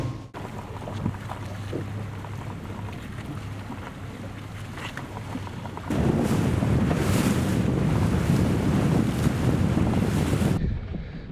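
A Fjord 41 XL motor boat cruises at about 28 to 29 knots with a constant wind-buffeted rush of engine and hull. The roar grows markedly louder and heavier partway through, then stays loud.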